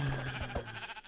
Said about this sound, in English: Well, there's a sheep down here.